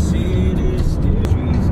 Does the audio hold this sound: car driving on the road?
yes